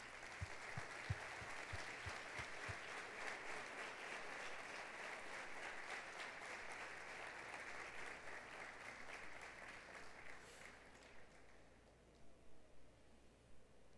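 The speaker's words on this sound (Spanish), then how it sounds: "denles un aplauso" A church congregation gives a round of applause for people just baptized, steady dense clapping from the crowd throughout, with a few louder thumps at the start and the clapping fading toward the end.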